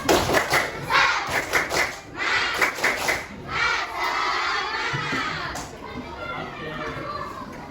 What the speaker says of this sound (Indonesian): Oke, tepuk semangat dulu. Tepuk semangat.